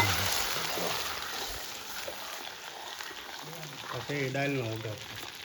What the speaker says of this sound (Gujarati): દાળનો વઘાર કરવાનો છે